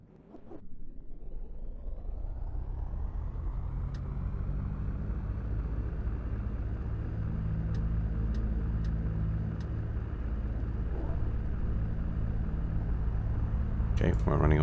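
Twin engines of a Baron 58 in the X-Plane 10 flight simulator crank and catch, settling into a steady, loud droning rumble that holds throughout, with a few faint clicks near the end.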